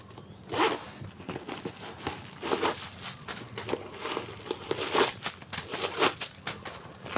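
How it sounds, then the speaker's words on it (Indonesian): The middle zipper of a secondhand YSL leather handbag is pulled open in several short, raspy zipping strokes, close and fairly loud, with light rustling of the bag between pulls. "ada resleting tengahnya"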